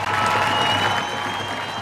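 Stadium crowd at a high school football game at Bryant Stadium just before kickoff, a dense continuous roar of cheering and clapping, loud and sustained, with no clear speech.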